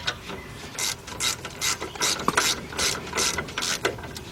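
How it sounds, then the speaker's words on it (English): A wrench works on the rear brake hardware of a 2007 Chevy Tahoe, giving a steady run of quick ratcheting clicks in short repeated bursts, close by and moderately loud, with no talking. "get our adjustable wrench, hold it into place. Go ahead, tighten them up on the top."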